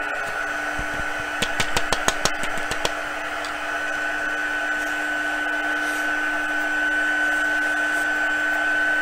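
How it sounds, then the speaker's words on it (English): A heat tool for melting embossing powder starts with a burst of clicks and taps, then settles into a steady, close whirring blower hum with a fixed tonal whine that holds to the end. "I'm going to turn on that heat tool and let it start heating up a little bit."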